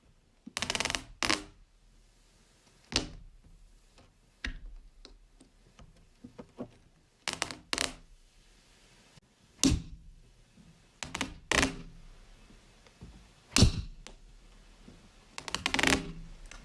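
Squid Pop fidget toy, a large orange-and-white Huggy Wuggy suction popper, being clicked and stuck down: a dozen sharp, close clicks and pops, irregularly spaced with quiet gaps between, no talking.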